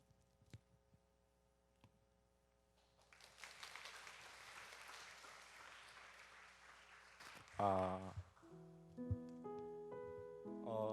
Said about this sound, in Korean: 우리 한 명씩 나올 때마다 큰 박수로 맞이하겠습니다.